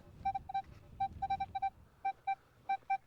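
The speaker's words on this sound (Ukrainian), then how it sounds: "Просто чудовий сигнал в одну точку." A metal detector sounds during a dig for ancient relics: about a dozen short, clear electronic beeps in irregular clusters, loud and close over a low rumbling background.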